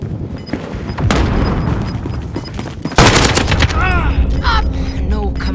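Call of Duty Modern Warfare gunfire with dense bursts and booms, loud and close, in a sustained volley that surges partway through, mixed with other game sounds.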